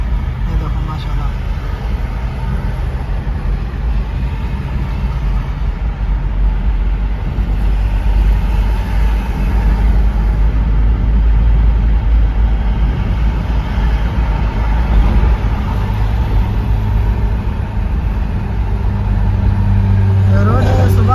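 Heavy morning traffic on Tariq Quraish road in Riyadh, a continuous low rumble of cars and engines passing close by, steady and dense throughout with someone talking over it.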